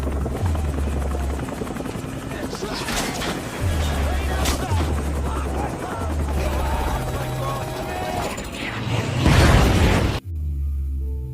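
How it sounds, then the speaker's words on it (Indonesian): A helicopter's rotors thump steadily amid loud crashing and bursting noises as it falls and crashes to the ground, building to a heavy impact before the sound cuts off, leaving a lower drone. "Helikopter pun jatuh ngerusuk ke tanah"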